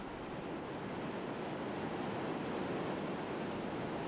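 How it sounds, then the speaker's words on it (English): The Lison River bursts from a large opening in a limestone cliff at its spring in the Jura Mountains, a steady, dense, thundering roar of rushing water that fills the scene without pause or voices. "This thundering roar is the sound of a small river, barely several kilometers long, coming to life in the Jura Mountains."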